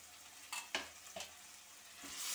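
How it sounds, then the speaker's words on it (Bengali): Garlic, ginger and cumin paste fries for a chicken curry, a soft, quiet sizzle broken by a few sharp scrapes of a spoon against the pan. "মশলাটা হালকা ভেজে কষাই নেব"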